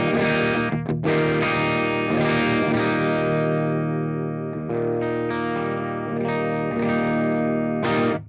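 Electric guitar on an amp's clean channel through a Sweet Honey overdrive pedal strums ringing chords with a warm, slightly gritty edge and some echo, chords sustaining between strums.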